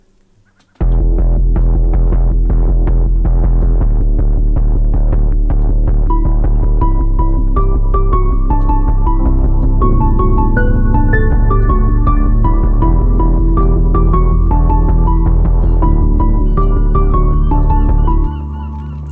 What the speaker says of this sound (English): Then we have this nice deep bass called Fuse,